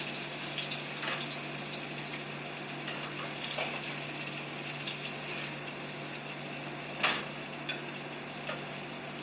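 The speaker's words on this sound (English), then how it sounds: "You want to drain the grease off of them." Grease draining off freshly browned cooked ribs, a steady close hiss and trickle with faint sizzling and a couple of brief clinks, no talk.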